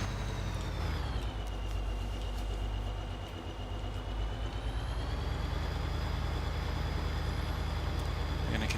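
A truck hauling a trailer load of chaff on a farm, its engine rumbling steadily up close, with a rising and falling whine and occasional faint squeaks for several seconds.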